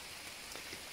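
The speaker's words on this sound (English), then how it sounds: "now I'm climbing a mountain and it's pouring rain." Pouring rain on a mountain climb near Sainte-Marguerite, a faint, even wash of dense drops pattering continuously with no voices.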